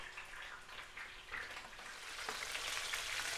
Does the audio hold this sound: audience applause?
no